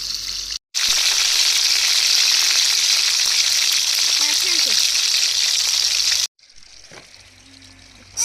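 Fish frying in hot oil during a traditional fishing-and-cooking outing, a loud, steady sizzle filling nearly the whole stretch with two short breaks, the second followed by a quieter, thinner crackle.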